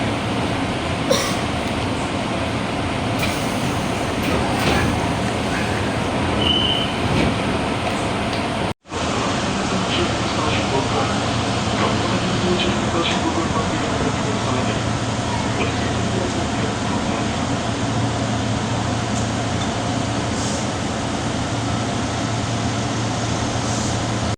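The Pangrango train waits at Bogor railway station, a continuous low rumble of train and station noise with a faint voice now and then across the steady din.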